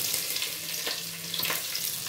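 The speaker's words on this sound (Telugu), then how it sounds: "ఇప్పుడు మనం ఏం చేద్దాం, వెల్లుల్లి వేద్దాం. వెల్లుల్లి కూడా మంచిగా బ్రౌన్ కావాలి." Garlic fries in hot oil in a pan for Telangana pappucharu, giving a steady close sizzle with faint crackles throughout and no talk.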